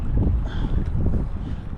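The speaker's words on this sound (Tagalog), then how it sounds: "lumakas na yung hangin saka malamig" Strong wind roars steadily across the microphone, a continuous low buffeting rumble with gusty swells throughout.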